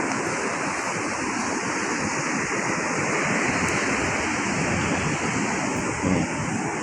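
Sea waves wash driftwood stumps ashore on a beach, giving a constant broad rushing surf with wind noise. The sound is close and steady throughout, with a slight swell near the end and no speech.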